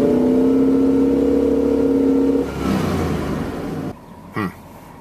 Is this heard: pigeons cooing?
no